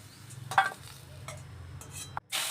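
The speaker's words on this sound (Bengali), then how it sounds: "কড়াইতে দিয়ে দিয়েছি দেখো তেল, সর্ষের তেল, আর দুটো শুকনো লঙ্কা ভেজে নিচ্ছি" Two dried red chillies and garlic frying in mustard oil in a kadai give off a faint, low sizzle, broken by a few sharp scrapes and clinks of a spatula stirring against the pan.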